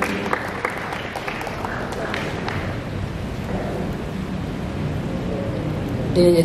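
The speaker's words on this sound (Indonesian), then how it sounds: "Kita tepuk tangan kepada Ketua sekalian." An audience applauds at a formal government gathering in Kupang, East Nusa Tenggara, attended by the provincial governor and officials. The clapping is a steady, dense wash throughout, with a voice faintly audible beneath it.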